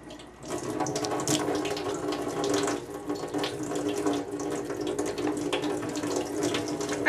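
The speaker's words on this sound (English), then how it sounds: "now we're gonna wet our face" Tap water running steadily into a sink during face washing, a close continuous splashing stream with slight fluctuations.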